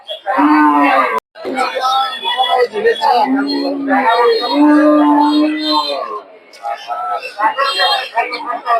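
Cattle moo repeatedly amid the busy Putia livestock market in Narsingdi, Bangladesh, long lowing calls overlapping with nearby chatter and voices.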